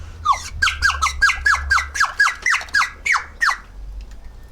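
A Chinese nightingale water whistle, a small water-filled whistle, trills out a rapid series of about a dozen bright warbling chirps in steady rhythm, loud and close, then stops.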